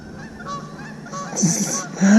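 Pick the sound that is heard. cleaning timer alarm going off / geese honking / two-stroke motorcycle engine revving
geese honking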